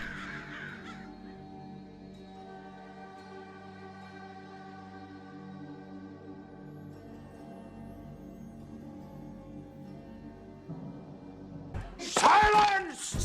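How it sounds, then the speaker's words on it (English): Several crows cawing loudly and harshly outdoors in a short burst near the end, following a long stretch of sustained tonal sound with a voice heard at the start. "the crows follow me around, making a racket"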